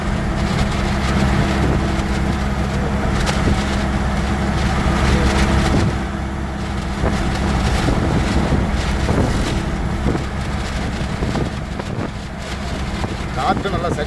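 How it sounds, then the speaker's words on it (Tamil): Strong wind roars steadily and loudly against the microphone while travelling by vehicle, a continuous low rumbling buffet with faint talk beneath it. "காற்று நல்லா சரியான காற்று."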